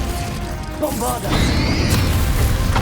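Bombarda blasting spell striking in the Hogwarts Legacy video game, a sharp crashing impact with a burst of debris and a rushing magical whoosh, loud, with a voice calling out spells nearby.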